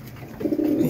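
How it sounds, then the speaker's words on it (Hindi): A pigeon gives a soft, low coo about halfway through, close by, over faint background noise. "ये ऊपर देख सकते हैं आप, एक कबूतर आगे बैठा है"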